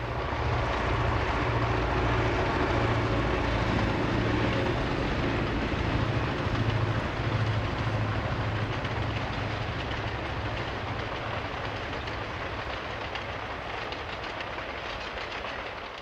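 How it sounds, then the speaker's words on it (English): A Domeliner passenger train travels eastbound through Weber Canyon near Peterson, Utah, with a steady, loud rumble of wheels and heavy locomotive power on the head end, a low droning engine tone running continuously and slowly easing off toward the end. "A Domeliner travels eastbound at Weber Canyon near Peterson,"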